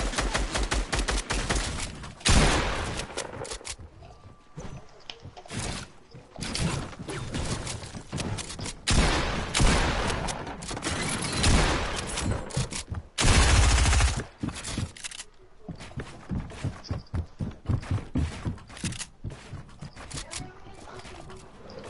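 Gunfire in Fortnite: repeated close shots and rapid bursts with brief pauses, loud and sharp, over some game clatter and occasional talk.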